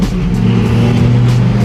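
A satin black Ferrari F8 with full exhaust and full tune roars loudly and up close, its engine droning steadily under hard acceleration.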